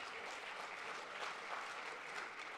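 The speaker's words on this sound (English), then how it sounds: "Round of applause one more time." An audience at a business boardroom panel event claps steadily for a short stretch, a dense, even patter of many hands at moderate distance with no voices over it.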